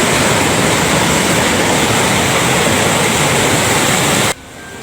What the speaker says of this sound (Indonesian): kereta api melaju dengan kecepatan terbatas